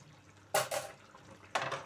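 Water poured into a brinjal and tomato curry with dried shrimp and dried fish: two short, close splashing bursts about a second apart, with no voices.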